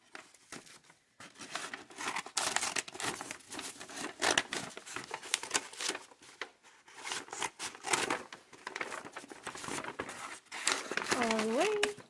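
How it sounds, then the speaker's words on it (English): Scissors snip through a paper bag, cutting it in half along the bottom while making an art portfolio, with steady crinkling and rustling of paper throughout. A voice talks briefly near the end. "So essentially, we're cutting the paper bag in half."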